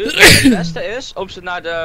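A single loud sneeze bursts out at the start during a survival video game session set in a cave, followed by someone talking.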